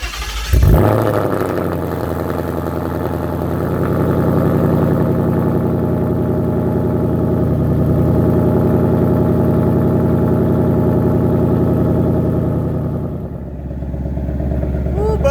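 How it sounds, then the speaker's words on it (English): A Ford Mustang running on E85 fuel starts up and then settles into a loud, steady, deep rumbling idle close by, easing slightly near the end. "Isn't that rumble on idle too?"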